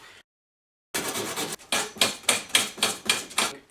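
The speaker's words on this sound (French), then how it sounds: "Je vais prendre de la toile émery pour nettoyer." Emery cloth rubs back and forth on a freshly drilled copper tube, a close, rhythmic series of about eight scratchy strokes following a moment of silence.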